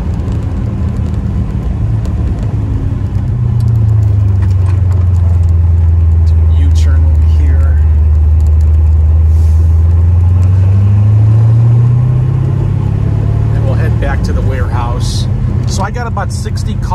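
A 1978 Chevrolet Corvette with a manual clutch and shifter accelerates hard, its loud, close engine rumble climbing and falling in pitch as it pulls away through the gears, with road noise throughout.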